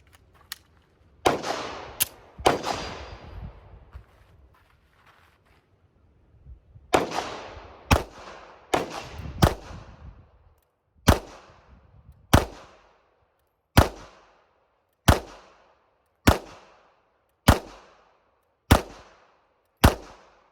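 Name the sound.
gunshots from a Ruger LCP Max pistol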